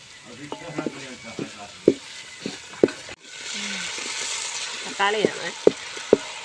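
Sliced onions sautéing in a pan with salt, turmeric and curry leaves for a beef curry, a soft sizzle under sharp utensil clicks and taps that grows louder midway.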